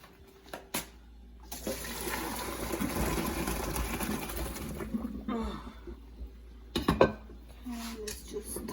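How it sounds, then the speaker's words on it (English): Hot pasta water is poured out of a cooking pot into a strainer, making a steady rushing splash for several seconds before tapering off into quieter drips and kitchen clatter. "let's go ahead and drain the pasta"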